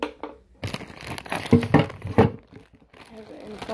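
Plastic crinkles and rustles in bursts, loud and close, with a few short pauses between handlings.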